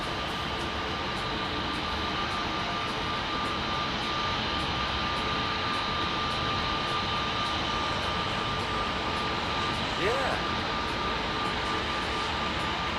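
A Boeing 787 jet on approach makes a steady, continuous broadband roar with a faint sustained tone running through it, unchanging in loudness throughout.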